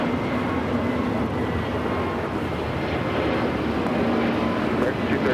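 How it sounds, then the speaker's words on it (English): Volaris Airbus A320neo jet departing LAX for San Salvador: a loud, steady jet-engine roar that holds constant throughout, with radio chatter and talking over it. "Next flight out, Volaris flight 4331 heading to San Salvador. It's an A320 Neo."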